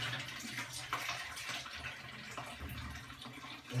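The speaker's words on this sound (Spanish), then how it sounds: "Estoy quitando el agua." Water running from a kitchen tap as squid drain, a steady, moderately loud splashing rush with small irregular splatters throughout.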